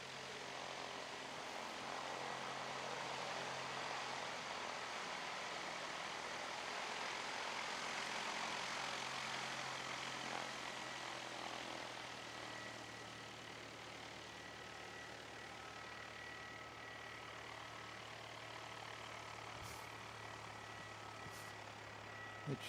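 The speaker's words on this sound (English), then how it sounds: "the mighty jet aircraft, such as the A380 landing" A large jet airliner lands at Christchurch International Airport. A faint, distant engine roar holds steady for over twenty seconds, swelling slightly midway before easing, with no one speaking.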